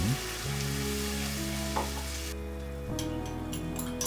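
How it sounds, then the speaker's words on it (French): Chili oil sauce with water comes to a boil in a pan for Sichuan mapo tofu, giving a dense continuous sizzling hiss beneath a low steady hum, close and uninterrupted, with a few faint clicks near the end. "Mouillé de 15 centilitres d'eau, portez à ébullition"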